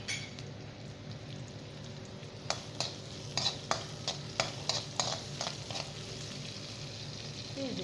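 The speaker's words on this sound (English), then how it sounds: "Now add the onion." Chopped onion frying in a little vegetable oil for stir-fried noodles, a steady close sizzle joined midway by a run of sharp stirring clinks and crackles that continue to the end, with no one talking.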